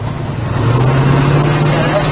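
A 1971 Chevrolet pickup truck engine runs steadily with a low, even hum close by, holding constant through the moment while the truck is driven; a voice speaks over it.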